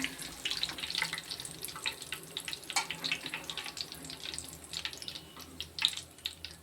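Curry leaves fry in hot oil after the stove has been switched off, giving a faint, busy crackle and sizzle with scattered pops and no talk over it.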